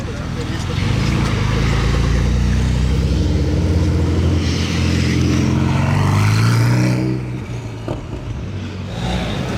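Lewis Hamilton's Pagani Zonda LH supercar accelerates hard past a Ferrari F8 in Monaco with its exhaust valves open, a loud, deep engine roar rising in pitch through several seconds before dropping away, with a voice talking over it.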